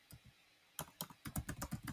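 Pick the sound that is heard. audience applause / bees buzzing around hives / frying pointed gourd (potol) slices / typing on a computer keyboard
typing on a computer keyboard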